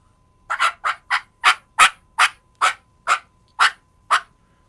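A turkey call imitates an excited hen cutting: about eleven sharp, rapid clucks in a quick, uneven burst, loud and close with no talking.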